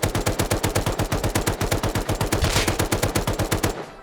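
LR rifle fire in the game Rust, a long, loud, evenly spaced automatic burst of close shots at a fast steady rhythm that cuts off abruptly near the end.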